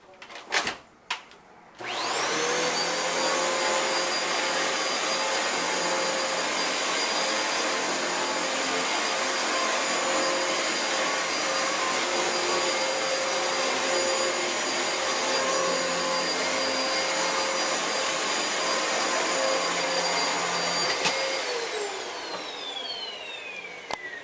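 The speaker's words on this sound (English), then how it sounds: "Now the Dyson." A Dyson vacuum cleaner starts up after a few clicks and runs at a loud, steady whine with strong tonal harmonics for about twenty seconds, then powers down with a falling pitch near the end.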